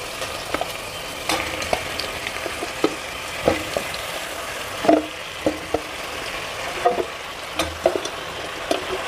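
Goat meat for goat head curry fries in oil with a continuous sizzle, and a spatula scrapes and taps the pan at irregular intervals, close up, with no talking.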